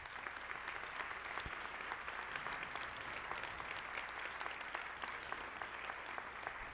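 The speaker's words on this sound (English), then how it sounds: "So could we give those families a big round of applause?" Parents at a meeting applaud donor families with steady, continuous clapping from a moderate-sized group, heard quietly and at a distance without any talk over it.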